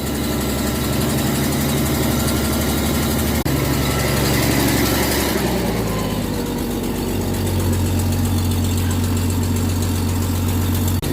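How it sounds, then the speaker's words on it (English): A powerful truck engine runs loud and close throughout, its pitch rising and falling as it is revved and then settling toward a lower steady idle, with no talk. "Yeah, rev it. Give it some revs."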